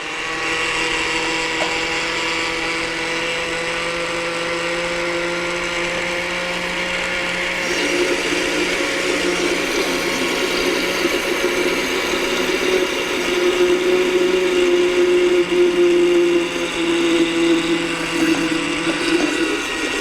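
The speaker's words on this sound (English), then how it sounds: "So I'm going to blend this" A blender whirs through poppyseed dressing with a steady, loud motor drone that grows heavier and rougher about halfway through and runs on alone without speech.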